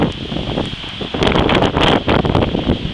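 Strong wind roars and buffets the microphone in heavy, surging gusts, loud and close throughout, during a thunderstorm in Vittorio Veneto, Italy.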